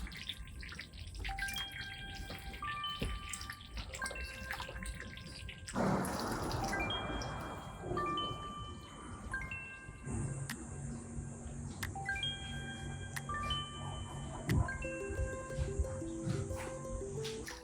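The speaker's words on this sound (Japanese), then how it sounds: "混ぜてあげるとまた生きてるんでプチプチプチプチ" A fermenting soy sauce mash in a traditional wooden vat crackles with tiny continuous pops and wet bubbling while being stirred, close and steady, with faint tonal sounds around it.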